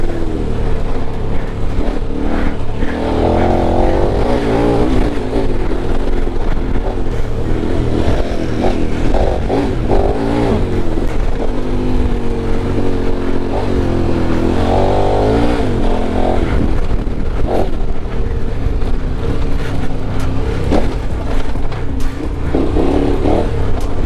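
Motorcycle engine while riding on dirt, a loud continuous mid-pitched drone that rises and falls with throttle changes and revs, with rattling and wind noise throughout and no pauses.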